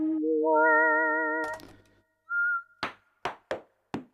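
A bright synthetic whistle tone from a Casio CZ-101 synthesizer preset glides upward and holds steady, then a short whistle note sounds, followed by several sharp percussive knocks.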